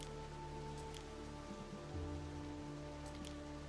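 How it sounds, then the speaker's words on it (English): Steady rain falls in the Roman city-building game Anno 117: Pax Romana, a soft continuous patter over a low ambient hum, faint and unbroken with no talk. "I mean, not always, but it feels like it's always raining."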